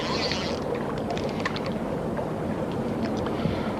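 Gusty wind rushes steadily over an open gravel pit during a pike fishing outing, a continuous broadband roar with choppy water texture and no clear breaks.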